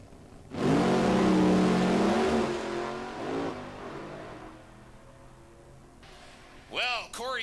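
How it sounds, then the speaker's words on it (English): A nostalgia nitro Funny Car launches hard at a drag race at RAD Torque Raceway, a sudden deafening engine roar that holds for about two seconds and then fades into the distance, followed later by a crowd or announcer voice. "this is the Nitro Funny Car"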